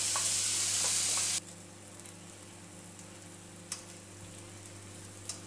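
Apples fry in a hot pan with a loud, hissing sizzle at first that drops suddenly to a soft, steady crackle, broken by a couple of light ticks.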